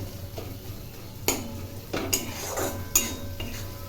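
Biryani masala stirred and sautéed in a pot until the oil separates, with sharp metallic spoon clanks against the pot every second or so over a steady low sizzling hum, close and without talk.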